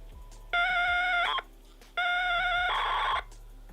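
A data cassette tape played on a mono tape drive puts out two loud, buzzy, steady electronic tone bursts, each around a second long, separated by a brief low hum.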